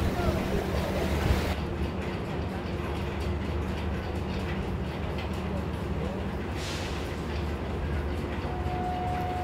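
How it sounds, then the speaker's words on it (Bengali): Sea waves at Bakkhali beach roll and wash ashore in a continuous broad roar, loud and close, with the wash swelling in places and a steady wind-like rush underneath. "ঢেউ বেশ খানিকটা বেড়ে গেছে।"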